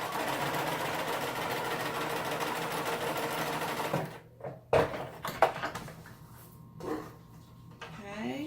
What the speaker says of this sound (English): Then I'm going to put my machine back in forward stitch.